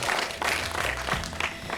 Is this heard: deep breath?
no